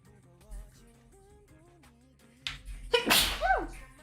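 A single sharp, loud sneeze bursts out near the end, close by in a quiet office during an art session, after soft background rustling.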